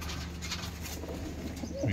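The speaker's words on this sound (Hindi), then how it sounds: "लाल चीना कबूतर है, बहुत ही शानदार" A red China pigeon, a Punjabi breed kept with other birds in a loft, coos in low, soft, rolling repeats that run steadily through the whole stretch at close range.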